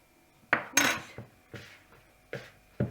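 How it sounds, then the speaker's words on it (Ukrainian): A spoon scrapes and knocks around a bowl while mixing warm lavash dough, in several separate strokes, close and clattery, with short quiet gaps between. "Ось так вимішуємо ложкою"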